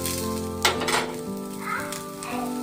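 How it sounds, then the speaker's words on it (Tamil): Onions sautéing in a hot pan for onion chutney give a steady close sizzle, with a couple of louder bursts as they are stirred, and no voices. "அதுக்கப்புறம் வெங்காயம் போட்டு 2 வாட்டி நல்லா வதக்கிட்டு"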